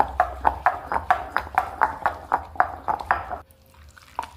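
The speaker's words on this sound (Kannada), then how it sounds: "ನೋಡಿರಿ ರುಬ್ಲಿಕ್ಕೆ ಹತ್ತೀನಿ" Tomato and onion chutney ground by hand on a grinding stone without water, producing a steady, close rhythm of about a dozen knocking, scraping strokes, after which the sound stops and a faint tone remains.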